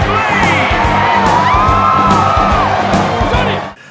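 A loud, close stadium crowd roars and cheers for a motorcycle stunt rider in the 2007 Ghost Rider film, with whoops and shouting voices over a dense wall of noise that cuts off abruptly at the end.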